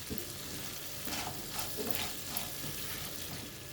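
Ivy gourd (tindora) pieces fry in a pan, a soft continuous sizzle with light scraping stir strokes, fairly quiet and with no voices.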